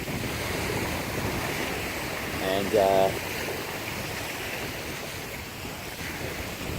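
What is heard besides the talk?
flowing water, high spring water level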